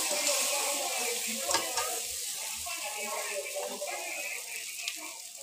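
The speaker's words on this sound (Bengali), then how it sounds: "তাতে সরিষার তেল দিয়ে পেঁয়াজ কুচে দিচ্ছি, তেজপাতা দিচ্ছি।" Chopped onion and bay leaf frying in mustard oil in a kadai, a steady close sizzle with light stirring scrapes throughout.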